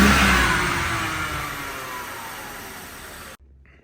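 An LS V8 swapped into a BMW E90 revs hard up close, the loud engine roar slowly tapering before cutting off abruptly near the end.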